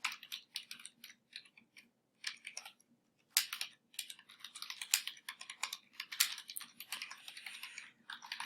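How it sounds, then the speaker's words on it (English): Keys clatter on a computer keyboard while an address is typed, quiet close-up bursts of rapid taps separated by short pauses, with no voices. "so I'm going to type my address"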